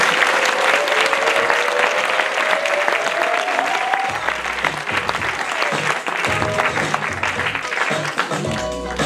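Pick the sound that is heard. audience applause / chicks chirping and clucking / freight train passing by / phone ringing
audience applause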